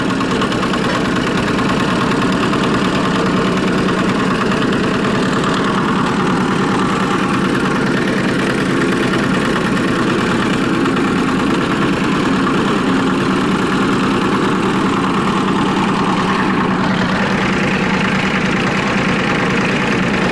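A Dynapac heavy road machine's engine runs steadily while driving, a loud, continuous mid-to-low rumble throughout with a slight shift in tone near the end, no talking.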